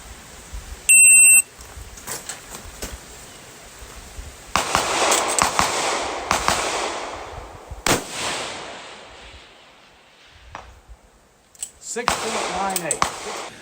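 At an outdoor rifle range, a shot timer gives one sharp electronic beep, then a string of loud, close shots from a PRS rifle build follows. The shots come at irregular intervals with some echo trailing after them.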